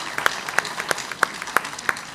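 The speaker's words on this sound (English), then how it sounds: "Give him a big round of applause." Sparse clapping at a 2016 press conference in Rome, Italy, roughly six or seven sharp, distinct claps at a steady rhythm from a small audience, fairly close and moderately loud.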